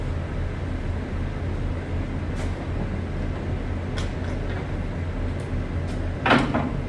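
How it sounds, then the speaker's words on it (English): Dry van trailer doors are swung shut by hand, giving a few scattered metallic clanks and a louder closing bang near the end over a constant low truck rumble. "Now we'll just get these doors closed up"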